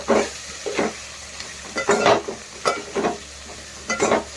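Cabbage keema fry being stirred in a pan, a spoon scraping and tossing the mix in four or five rhythmic strokes over a steady soft sizzle, close and fairly loud, no talking.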